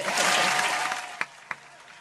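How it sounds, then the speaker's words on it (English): Brief audience applause during an online real estate talk, a burst of clapping that fades quickly, leaving a couple of isolated claps. "Yes, let's get some claps going on."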